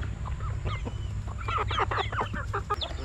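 Several chickens cluck and chatter nearby in short, irregular bursts over a low background hum.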